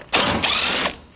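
A 10mm socket ratchet clicks rapidly in two short bursts, close and loud, while loosening a serpentine belt tensioner mounting bolt on a 2006-2012 Toyota RAV4.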